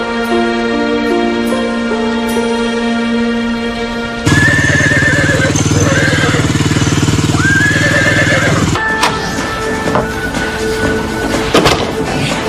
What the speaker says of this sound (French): Ça, c'est un beau cheval.